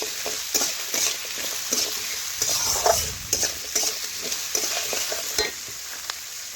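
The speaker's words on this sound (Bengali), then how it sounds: "লবণটা ভালোভাবে নাড়াচাড়া করে মিশিয়ে নিচ্ছি" Onions frying with salt in a pan on a traditional stove, stirred briskly so a low sizzle runs under frequent close clinks and scrapes of the spoon against the pan, with no voices.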